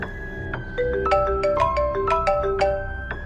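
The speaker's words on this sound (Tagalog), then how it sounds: "Bigla namang tumunog ang video call." A phone rings with an incoming video call, playing a clear, loud melodic ringtone of bright repeating tones in a rising and falling pattern, heard alone and close.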